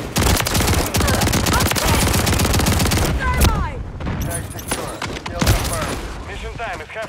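Dense rapid gunfire rattles through a shooter video game match featuring slug rounds, a loud continuous automatic burst for three seconds followed by scattered shots and impacts, with players talking over parts of it.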